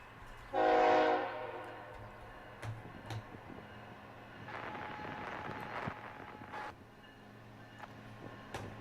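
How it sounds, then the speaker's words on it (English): A BNSF westbound freight train on the Aurora sub sounds one loud, sustained horn blast at the East Dubuque crossing, followed by rolling rail rumble and clatter at moderate distance. "we're going to get a westbound on the BNSF Aurora sub at East Dubuque"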